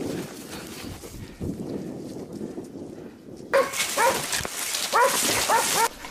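Hunting dogs bark rapidly and excitedly while cornering a wild boar in the brush, the yips and bow-wows growing louder and denser in the second half over rustling movement.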